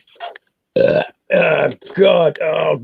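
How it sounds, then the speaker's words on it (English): A man's loud burps, several drawn-out belches in quick succession with short gaps between them, heard up close after a drink made with egg white. "I'm sorry for burping."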